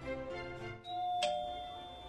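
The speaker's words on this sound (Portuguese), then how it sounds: "Aqui tem uma campainha. Posso tocar?" Doorbell at the Biblioteca Joanina library in Coimbra, Portugal, giving a single clear electronic ding-dong whose two tones ring on and fade slowly in a quiet space.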